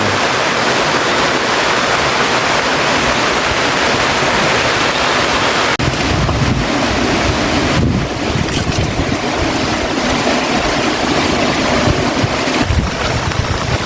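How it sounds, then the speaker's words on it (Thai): Heavy rain falls with gusting wind outdoors in a rural Lao farming setting, a loud, dense, unbroken roar and hiss with rumbling wind buffeting the microphone throughout. "ฝนตกแล้วทุกคน"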